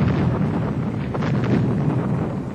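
Heavy naval gunfire from Italian cruisers in a WW2 sea battle comes as a dense, continuous rumbling roar with rolling low booms and no distinct separate shots.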